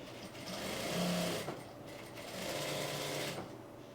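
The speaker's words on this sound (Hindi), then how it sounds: "कपड़े को बिल्कुल बराबर रखेंगे और इस सिलाई को हम यहाँ पे लगा लेंगे" An electric sewing machine stitches the folded hem of a kurti in two quick bursts of steady whirring, close and fairly quiet, with a brief pause between runs.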